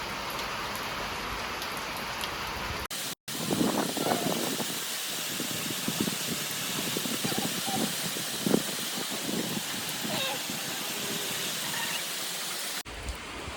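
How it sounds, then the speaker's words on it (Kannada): Steady rain falls and patters on surfaces all around, a dense continuous hiss with scattered heavier drops, with no voices present. "ಮಳೆ ಬರ್ತಾ ಇದೆ"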